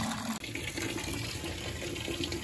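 Water drains steadily from a Burnham Independence steam boiler during annual maintenance, a continuous rushing splash with a brief dip near the start, close and fairly loud.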